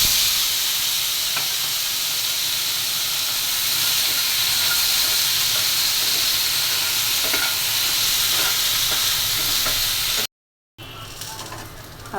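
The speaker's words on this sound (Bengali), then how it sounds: "এখন বেগুন আলুটাও ভেজে নেব।" Eggplant and potato pieces frying in hot oil in a pan give a loud, steady close-up sizzle with faint stir scrapes, broken by a short silence before it resumes.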